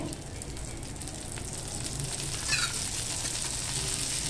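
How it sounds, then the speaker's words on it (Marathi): Amboli rice batter sizzling in a pan after half a spoon of oil is drizzled around the edge, a steady soft frying hiss that holds evenly throughout with no talk. "अर्धा चमचा तेल असं बाजूने सोडायचं आहे"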